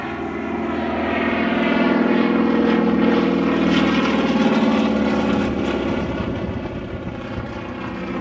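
A 450-horsepower RAAF Winjeel propeller plane's engine drones loud and steady overhead during a flying display, swelling slightly then easing as it banks through a steep turn.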